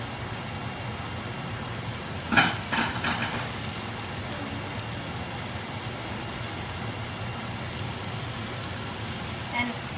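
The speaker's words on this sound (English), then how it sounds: "You only put one in at a time so you can get the most taste into the warm oil" Cracker-coated green-winged teal duck fillets fry in warm oil with a steady, soft hiss, broken by a few brief louder crackles and spatters, with no talk.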